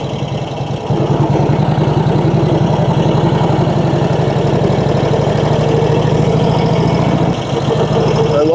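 A 1948 Indian Chief Roadmaster motorcycle engine runs close and loud with a steady, rapid low thump, holding an even idle-like rhythm throughout with a brief dip near the end.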